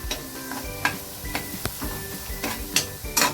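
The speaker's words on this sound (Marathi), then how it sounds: "आपल्याला आहे ना ह्या मसाल्याला थोडंसं 1 मिनिटभर परतून द्यायचं." Onion and spice masala sautéing in a pan while cooking a soybean vegetable curry, with steady close sizzling and repeated sharp scrapes and clinks of a spoon stirring against the pan, no talking.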